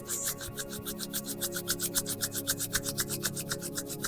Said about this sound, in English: We'll now close the palms fully together into prayer pose and start rubbing and bringing in some heat.